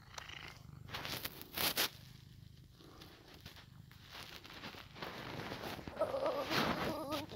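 A cat purrs close by in a soft, continuous rumble, with a few faint rustles and a brief high meow-like sound near the end.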